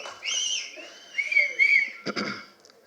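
Shrill, sliding whistles ring out from an audience at a film trailer launch event, followed by a few scattered claps.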